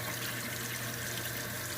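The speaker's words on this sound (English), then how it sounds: "Put the cold water on first." Cold water runs from a tap to rinse freshly tie-dyed fabric, giving a steady, even hiss of flowing water with no voices.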